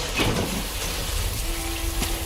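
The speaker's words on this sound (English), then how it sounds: "Oh, it's raining." Steady rain falls throughout a scene in The 100 season 5 episode "Eden", a broad continuous hiss with a faint low tone entering partway through.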